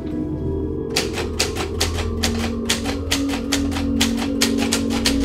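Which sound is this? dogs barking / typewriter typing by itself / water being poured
typewriter typing by itself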